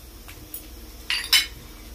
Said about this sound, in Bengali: আমি নেড়ে নিচ্ছি মশলাটাকে।